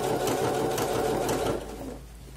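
A sewing machine stitches a seam on a skirt, a steady close whirring hum with rapid needle clatter that runs for about two seconds, then eases off and quiets.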